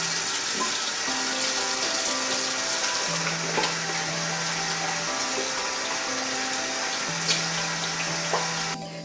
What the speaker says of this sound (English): So I'm going to start by washing my hands